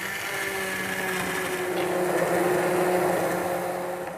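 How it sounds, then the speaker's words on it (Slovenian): A handheld immersion stick blender whirs steadily through a spiced soup, a continuous close motor drone holding at even loudness for the whole stretch with no voices. "zmiksamo s paličnim mešalnikom"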